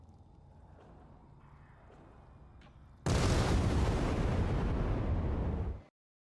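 Explosion in the video game Dying Light 2: quiet game ambience with faint tones, then a sudden loud, broadband blast that roars steadily for about three seconds before cutting off abruptly.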